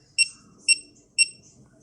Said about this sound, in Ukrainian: Чим ближче, тим звук такий протяжний, довгий. І дуже гучно пищить.